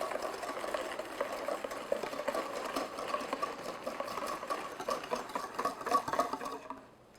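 A whisk beats steadily through custard as cream is gradually poured in for raspberry swirl ice cream, a continuous close rhythmic tapping and sloshing that fades out at the end.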